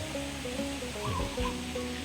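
An artificial waterfall in a resort garden in Nakhon Pathom, Thailand, gives a steady wash of falling water, with faint tonal sounds and murmurs running underneath.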